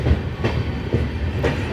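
A train rolls in toward Guwahati station past trackside shanties, wheels drumming with a steady clickety-clack rhythm and low rumble, fairly close and continuous with no voices.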